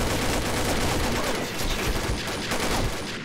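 Rapid bursts of gunfire from a Combat Arms match, dense and loud, crackling continuously for a few seconds with no talk over it.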